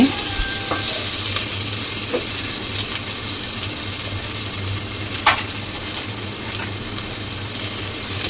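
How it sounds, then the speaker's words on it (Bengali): Onion sizzles in hot oil in a pan while bottle gourd and prawn curry is being prepared, a steady close frying hiss broken by a few stirring scrapes. "পেঁয়াজটা ভাজা ভাজা হলে মশলা দিয়ে পরে চিংড়ি মাছ দিব"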